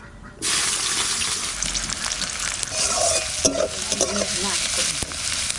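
Cinnamon, cardamom, cloves, peppercorns, a bay leaf and chopped onion fry in hot mustard oil for a village-style red rooster curry, a loud steady sizzle with scraping stirs and clinks of a spatula against the pan.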